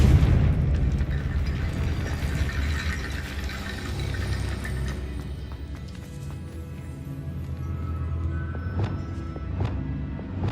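Confringo blasting curse in the video game Hogwarts Legacy, a dense rumbling boom that swells and rolls on under layered game sound, with a few sharp bursts near the end.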